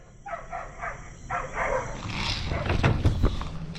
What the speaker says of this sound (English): Neighbor dog!